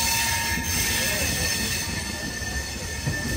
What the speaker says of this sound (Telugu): VAP 7 locomotive. Janshatabdi train number వచ్చి